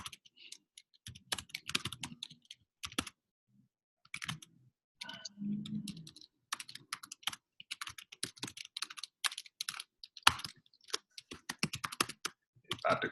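Title being typed on a computer keyboard: rapid, uneven bursts of crisp key clicks with short pauses between words, close and clear.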